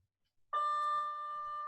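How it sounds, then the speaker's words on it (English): An electronic school bell sounds in a classroom, a single steady sustained tone that starts abruptly and holds at even loudness, fairly close and with no voices over it. "Yep, there's the bell."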